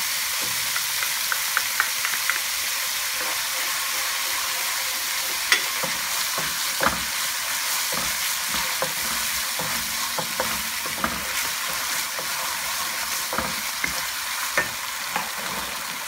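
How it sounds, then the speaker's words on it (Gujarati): Chilies frying in hot oil for Shanghai chicken, a continuous dense sizzle with scattered spoon taps and stirring clicks throughout, close and steady with no voices. "જેટલું મરચાં તેલ સાથે તરાશે એટલું વધારે તીખું થશે."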